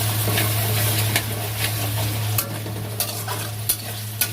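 Tomato masala stir-fried in a pan gives a loud, steady sizzle, with a spatula scraping and tapping the pan every second or so, and no voices.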